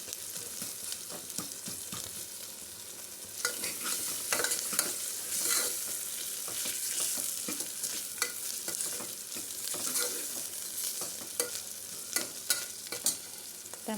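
Ginger garlic paste fries in hot oil in a curry pan of drumsticks, brinjal and potato, with a steady sizzle broken by repeated scraping and clinking strokes of a stirring spoon, close and fairly loud, no voices.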